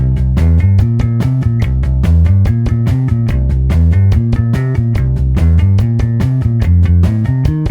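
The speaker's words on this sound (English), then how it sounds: "you can build up speed, and then eventually you can try it with the drum track" A steady, loud drum groove with bass and chords plays continuously, a driving backing rhythm with regular beats throughout.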